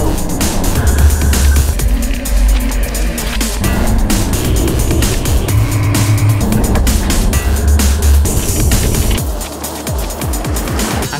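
An Isuzu D-Max rally car racing on a circuit, its engine roaring loud and close throughout with shifting revs, tyre and road noise, and a drop in level near the end.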